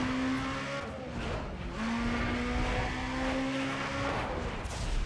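A car in Need for Speed ProStreet accelerates on nitrous in third gear at a drag race, with a loud, continuous engine roar whose pitch climbs steadily, broken by a brief dip before rising again.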